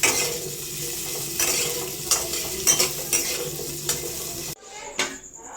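Eggs fried in a pan for egg do pyaza, an ongoing sizzle broken by several spatula scrapes and knocks against the pan, ending in a quieter stretch with one last clink.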